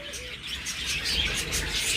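Lovebirds at a bird farm chirp in a busy, overlapping chatter of bright, high tweets that runs steadily throughout, fairly close and with no talking.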